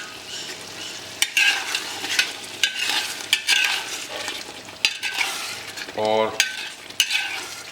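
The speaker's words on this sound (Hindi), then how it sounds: "बढ़िया भून लेंगे एक बार और" A masala for Saoji mutton curry, made with poppy seed paste, is roasted in ghee. Rhythmic spatula scrapes and stirring strokes sound over a lively sizzle, close by, with a single brief spoken word.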